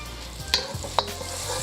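Butter and oil sizzling in a hot pan before an egg goes in for chicken fried rice; a faint, soft crackle with a couple of small clicks from the pan over a low hum.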